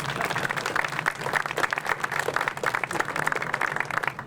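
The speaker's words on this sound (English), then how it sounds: "So big round of applause for this young man." Steady, loud applause from a gathered audience at a commemorative plaque unveiling for the Deltic locomotive 55009 "Alycidon", dense clapping sustained without a break.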